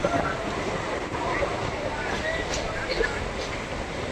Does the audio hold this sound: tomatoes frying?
no